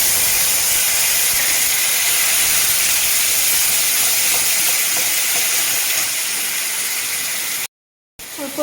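Spice paste of chili powder, turmeric and cumin hitting hot oil for a pointed gourd curry, a steady bright sizzling hiss that runs evenly before cutting out briefly near the end.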